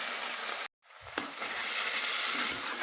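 Pangas fish masala for a Bengali fish bhuna sizzles and fries steadily in a pan while being stirred, a continuous hiss broken by a brief silent gap and a clink of the spoon.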